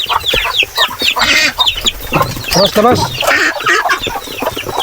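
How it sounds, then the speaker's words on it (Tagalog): Native chickens cluck repeatedly at close range, with a brief spoken word and other voices mixed in. "Nakapasok na naman yung ating native na manok."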